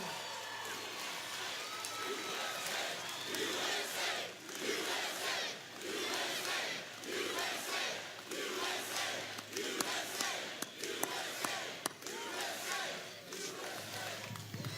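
A big outdoor crowd at a presidential rally in Panama City, Florida cheers and roars in surging waves, loud and sustained throughout with shouts rising above the mass of voices.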